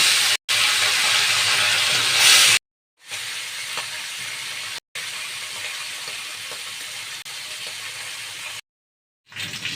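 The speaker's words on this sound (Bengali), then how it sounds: "বাকি মাছগুলো আমি এপিট ওপিট করে লাল লাল করে ভেজে নিয়েছি" Marine Dhela fish frying in hot oil, a steady bright sizzle that is loud and close, broken by a few short silent gaps.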